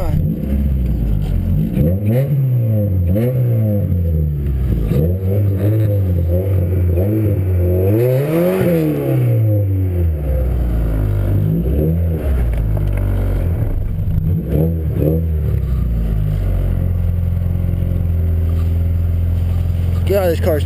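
A car left sitting through rain and snow revs hard after a cold start, its engine note sweeping up and down in repeated loud, close bursts before settling into a rough idle. Voices can be heard alongside.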